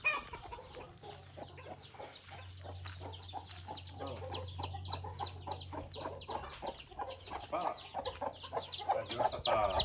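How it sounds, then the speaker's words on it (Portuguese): Mixed chickens and small chicks on a farm clucking and peeping continuously and fairly close, with a low steady hum underneath. "Aí tem todo tipo de galinha aqui,"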